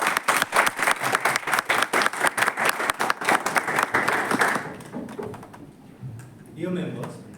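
Applause from a Toastmasters club audience at a Table Topics session, a dense round of clapping that fills the first few seconds and then thins out before a single voice begins to speak.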